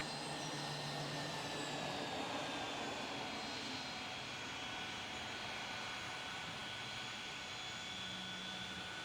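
A simulated airliner, FlixJet 346, rolling for takeoff in an air traffic control game, with a steady, distant jet engine roar and a faint rising whine held at even loudness throughout, no voices.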